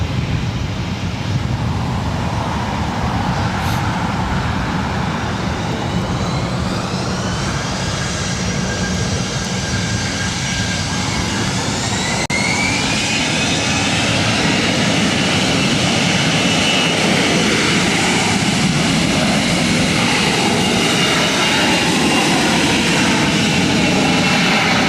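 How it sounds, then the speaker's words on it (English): A Delta Airbus A321 takes off at LAX with a loud, sustained roar of jet engines close by. A whine rises and shifts in pitch as the thrust builds and the aircraft passes. "This is Delta 708 about to take off to Detroit on the 321."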